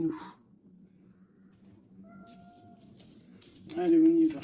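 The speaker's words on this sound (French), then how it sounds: "Ça, c'est minou." A pet cat meows indoors, a few short calls with a louder, drawn-out meow near the end, heard fairly close with little else around.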